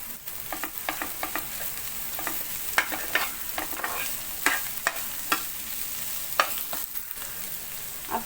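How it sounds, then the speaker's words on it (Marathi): A spoon stirs cauliflower chutney in a pan with steady scraping and repeated sharp clinks against the pan, over a soft, constant frying sizzle; fairly close and moderate in level, with no talking. "याला छान असं आता मिक्स करून घ्यायचं आहे आपल्याला"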